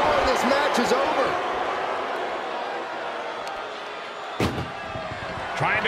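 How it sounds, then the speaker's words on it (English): A heavy ambulance door slam in a wrestling video game ambulance match cuts through a roaring arena crowd, with a few sharp thuds and bangs scattered among the noise. "Trying to at least slam one door shut."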